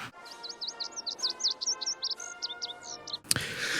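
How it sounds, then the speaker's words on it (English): Birds chirping in a scene from the film Ghost Rider: Spirit of Vengeance, a quick series of bright rising and falling tweets repeating steadily over a faint hum, ending with a sharp burst of noise. "set to the sound of birds chirping"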